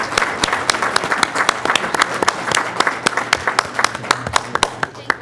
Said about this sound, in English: Please come on up so we can all give you a big round of applause for your great work.